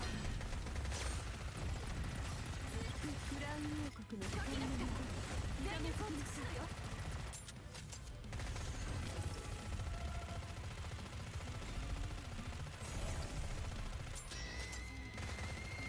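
Rapid automatic gunfire in the shooter game NIKKE, a dense continuous rattle running the whole stretch with voices talking over it.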